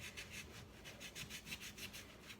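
Cloth or hand rubbing charcoal grey paint onto an aged, distressed wooden corner: a quiet, steady back-and-forth scrubbing rasp in even rhythmic strokes, faint and close, with no talking.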